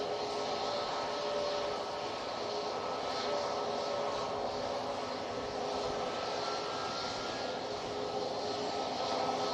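A Corendon Boeing 737-800 arriving at Manchester Airport from Heraklion makes a steady, moderately distant jet engine roar that holds evenly throughout, with no voices.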